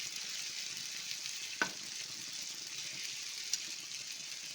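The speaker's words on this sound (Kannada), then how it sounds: "ಈಗ ಇನ್ನೊಂದು 2 ನಿಮಿಷ ಈ ಕಡೆ ಫ್ರೈ ಆಗಲಿ" Brinjal slices coated in masala fry in a pan with a steady, soft sizzle throughout, broken by two brief clicks, with no voices.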